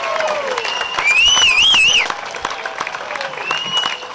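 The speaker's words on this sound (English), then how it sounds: "Let's give them all a wonderful round of applause for doing the job that they do" A celebration audience at Moonlight at the Ranch in Santa Paula gives a round of applause and cheers, with a loud whistle sliding up and down near the start amid the clapping, which then thins into scattered claps.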